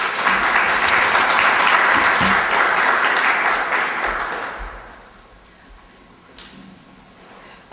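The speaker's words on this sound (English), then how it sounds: "Let's give the panel another round of applause, please." An audience at a women's studies symposium at Albany State University applauds a panel, loud sustained clapping that fades out after about five seconds, leaving near quiet.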